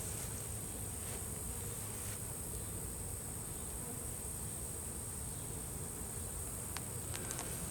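At an apiary, honeybees keep up a continuous buzzing drone, dense and unchanging, with a few faint ticks near the end and no one talking.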